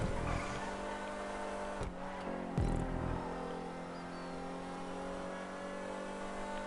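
Stock turbocharged car engine in GTA 5 racing, transmission upgraded, revving steadily with a sustained mid-pitched drone, brief shifts and dips near the start, loud and continuous throughout.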